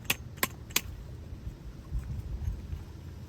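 Keys on a ring jangle three times in quick succession at the ignition of a 1973 VW Beetle, then fade to a low, quiet rumble of the surroundings.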